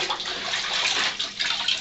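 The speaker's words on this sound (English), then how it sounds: "squeeze the old water out and get this new stuff in there" A tanned leather hide rinsed in a tub of water and squeezed out, giving close, loud sloshing and trickling splashes that swell and ebb in uneven bursts, with no voices.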